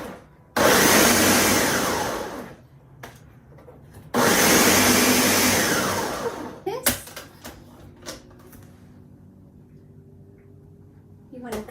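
A food processor pulses a macadamia nut crust for a vegan coffee cheesecake: two long, loud whirring bursts, each a few seconds, followed by clattering and knocks as the machine stops.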